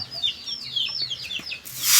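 A chicken clucks in a few short, chirpy bursts close by, followed by a brief rustling swish at the end.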